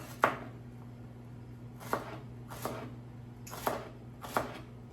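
A knife chops celery into small pieces on a board in five separate sharp taps at uneven intervals, fairly faint, with a steady low hum underneath.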